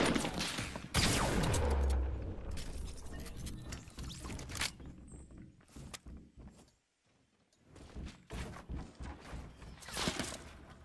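Video game gunfire: scattered sharp shots and bursts from the in-game combat, moderately loud and uneven, with a short quiet gap midway and dense clusters of cracks before and after.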